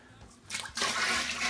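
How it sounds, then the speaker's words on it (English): Cooled homebrew beer wort is poured into a fermenter, a rushing, splashing liquid gush that builds after a brief start and then flows steadily and close. "Pour this nice beer right in there."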